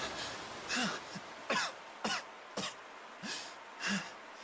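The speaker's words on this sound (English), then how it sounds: "Could you try coughing quietly?" A character in the video game Tales of Xillia coughs repeatedly, about seven short, throaty bursts spaced roughly half a second apart, fairly quiet and close with no talking over them.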